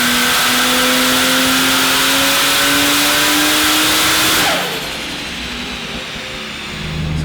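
A Barra-powered Holden revs hard on a roller dyno, a loud sustained engine roar with rising pitch that cuts off suddenly and settles into a lower idle-like drone.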